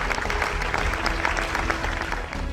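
An audience at an international award ceremony applauds the winners, a steady, dense crowd clapping that carries on evenly throughout.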